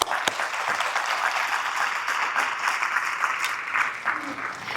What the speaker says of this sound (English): big round of applause to all of you, please, for being here